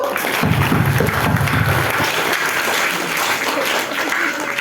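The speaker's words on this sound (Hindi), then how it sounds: "ताली एक बार जोरदार पीट दो।" An audience claps loudly and heartily at a New Year celebration at a Brahma Kumaris centre in New Delhi, a thick burst of applause that stays strong throughout.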